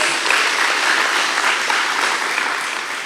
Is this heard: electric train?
no